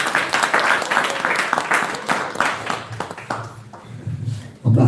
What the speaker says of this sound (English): Let's give a round of applause to our good brother Karaji.